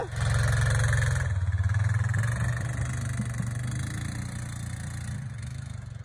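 Four-wheeler ATV engine pushing a snow plow, a steady near mid-pitched drone with a rapid rhythmic pulse that swells at first and then settles as it keeps running.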